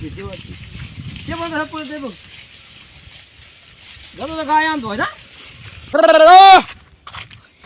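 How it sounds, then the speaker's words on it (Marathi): Goats bleat three times at close range, long wavering calls separated by short pauses, with the final bleat loudest. "असा आवाज दिला की शेळ्या येतात"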